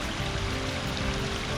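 A backyard landscape waterfall in a natural, wooded garden flows steadily, a continuous broad rushing and splashing of water that stays loud and even throughout with no talk.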